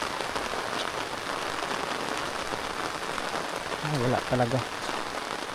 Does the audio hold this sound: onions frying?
no